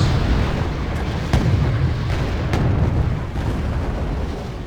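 Rocket fire and explosions from tank combat in the video game Wargame, a dense steady rumble of artillery-like blasts with a few sharper bursts standing out, loud and continuous with no talking.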